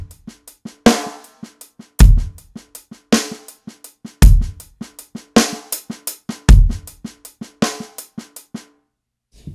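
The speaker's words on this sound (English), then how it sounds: "you're doing a little 16th note on the snare with your left hand." Drum kit playing a 6/8 groove with the left hand adding sixteenth-note snare fill-ins, heavy kick and cymbal accents landing on a steady rolling pulse; loud, close and played alone with no talking.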